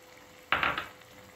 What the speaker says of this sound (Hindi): इसे हम इसके कढ़ाई में डाल देंगे।